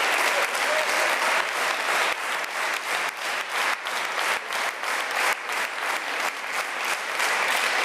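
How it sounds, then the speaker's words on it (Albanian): A studio audience at a television show claps loudly and continuously, a dense, even wash of applause that holds for several seconds. "ju t'i jepni një duartrokitje të vërtetë"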